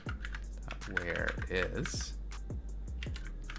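Rapid clicking keystrokes on a computer keyboard come in uneven bursts during a relaxed coding session, close and crisp, while someone speaks briefly over the typing.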